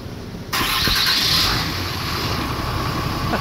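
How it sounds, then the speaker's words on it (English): A 2007 Dodge Ram 3500 with the 6.7 diesel engine and modified exhaust fires up after a quiet moment, then holds a loud, steady idle rumble close by. "Let's see if this thing fires up."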